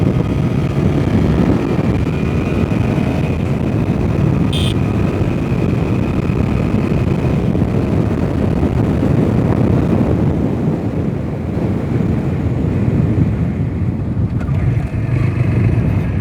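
A 2024 TVS Apache 160 4V motorcycle cruises on a highway, its engine a steady drone buried under loud, constant wind roar for the whole stretch.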